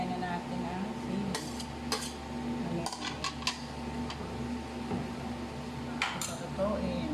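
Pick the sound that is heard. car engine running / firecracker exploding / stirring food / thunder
stirring food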